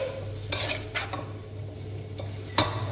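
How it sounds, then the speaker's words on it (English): Rice noodles with sauce are stir-fried for Pad See Ew, with a steady sizzle under repeated scraping strokes of a utensil against the pan, close and without talk. "Scrape the pan and turn the noodles over until thoroughly coated with the sauce."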